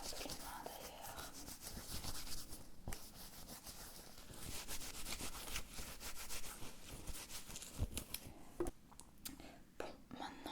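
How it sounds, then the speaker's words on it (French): Hands rubbing and wiping during a mock medical check-up, a close, soft, continuous scrubbing friction with uneven strokes, with quiet whispering over it. "Moi, je vais me nettoyer un peu les mains d'ailleurs."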